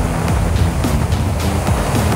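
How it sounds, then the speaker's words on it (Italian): Strong wind roars steadily at a flat-sea beach during surfcasting, a loud continuous rush of buffeting gusts mixed with surf, with no voices. "E il vento non è poco"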